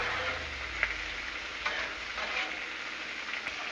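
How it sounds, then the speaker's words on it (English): Bacon, peppers and onions frying on a Blackstone griddle, a dense, steady close-up sizzle with small crackles and pops throughout. "Bacon's going. Peppers and onions are going."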